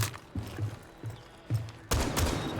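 Buck's rifle in Rainbow Six Siege firing in quick bursts: several sharp, close shots in a fast irregular rhythm, ending in a louder sustained volley.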